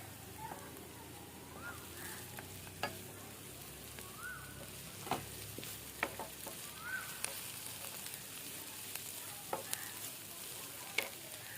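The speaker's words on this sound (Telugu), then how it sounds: "కట్ చేసుకున్నటువంటి పచ్చిమిర్చి వేస్తున్నాను అండి." Chopped green chillies sizzle in hot oil for mutton dum curry, a steady crackling hiss running throughout with scattered sharper pops and ladle clicks, fairly quiet and close, no talking.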